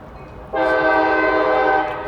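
At a level crossing at night, a Paducah and Louisville locomotive sounds its horn in one loud, sustained chord that starts abruptly and holds steady, over a low rumble of the approaching train.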